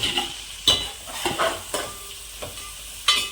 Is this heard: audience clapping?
no